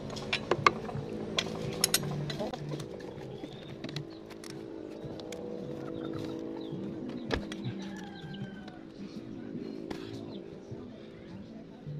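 A ratchet wrench loosening the 12mm oil drain bolt during an oil change gives a string of close, sharp clicks and metallic ticks, some faint bird calls behind it.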